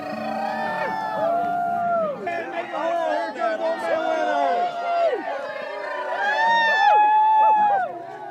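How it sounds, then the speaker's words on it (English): An outdoor crowd at a West Virginia winter bonfire festival, where Old Man Winter is hauled onto the fire on a 40-degree day, whoops and howls in rising and falling voices over loud, continuous chatter. "amid cheers and howls from the crowd"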